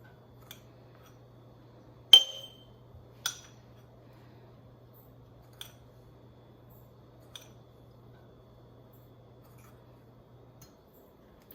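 Salt drops into glass canning jars, giving a few sharp, sparse clinks: one louder ting followed by several fainter ticks spread over quiet seconds, with a faint hum underneath.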